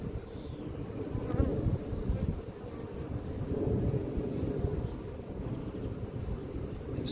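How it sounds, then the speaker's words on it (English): Honey bees buzz thickly at an open, queenless hive, a close, continuous hum with slight swells and some wind buffeting the microphone. "they are quite calm for bees that haven't got a queen"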